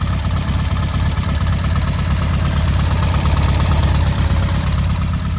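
A car engine running steadily on a dyno with an audible fuel pump, a loud continuous idle-like drone with a faint fast ticking layered through it.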